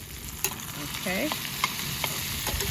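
Food sautéing in a pan at a camp kitchen, a continuous close sizzle broken by several sharp stirring clicks and scrapes.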